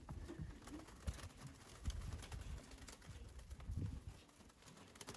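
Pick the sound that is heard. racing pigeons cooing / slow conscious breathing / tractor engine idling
racing pigeons cooing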